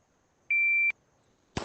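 Single sharp electronic shot-timer beep in the VR shooting game ACE VR, a steady half-second tone in near silence, followed shortly by a loud burst like a gunshot.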